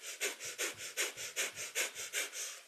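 Kundalini yoga breath of fire: rapid, rhythmic panting breaths through the nose, about a dozen sharp, evenly spaced bursts in under three seconds, close and moderately loud with no talking.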